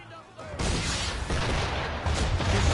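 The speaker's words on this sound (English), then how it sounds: "Why is he shooting at us?" Cannon fire from a ship in Assassin's Creed 3 Remastered: after a brief voice, a sudden heavy blast leads into a loud, sustained roar of booming shots that lasts to the end.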